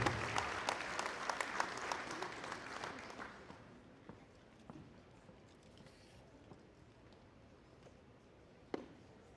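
Audience applause at a school scholarship and awards ceremony, loud clapping for the first few seconds that thins and fades to scattered claps and room murmur, with one sharp clap near the end.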